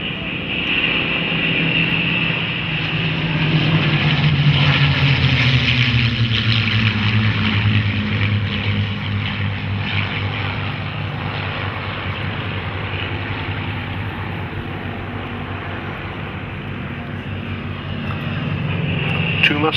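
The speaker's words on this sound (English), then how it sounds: "Two Mustangs and a Yak." Two P-51 Mustangs and a Yak warbird fly at the Duxford Flying Legends airshow, a loud sustained piston-engine drone with a slowly sliding pitch, mixed with crowd noise and commentary over the public address.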